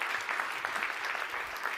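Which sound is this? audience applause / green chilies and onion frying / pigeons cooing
audience applause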